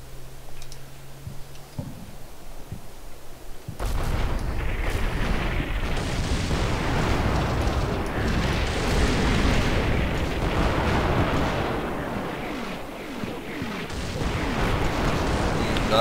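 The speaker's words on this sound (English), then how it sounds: "That would be either them calling artillery on me" Sustained rumbling artillery barrage in the World War II strategy game Combat Mission Final Blitzkrieg, loud and dense with overlapping booms and crackling impacts, following a quiet opening.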